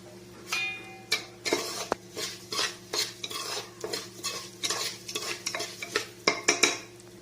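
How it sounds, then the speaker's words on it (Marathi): A spoon scrapes and stirs peanuts and grated coconut around a pan for wheat lapsi, making a run of short, fairly quiet clattering strokes in an uneven rhythm, close by with no talking. "त्यामध्ये आपण शेंगदाणे आणि खोबरं घालून घ्यायचं।"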